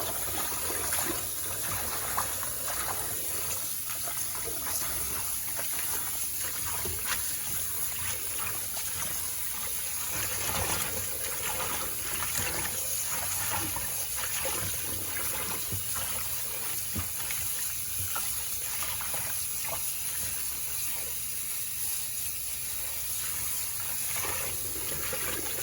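Sochan wild greens are washed in water with continuous quiet splashing and trickling, plus scattered faint swishes and drips over a soft running-water hiss that lasts throughout.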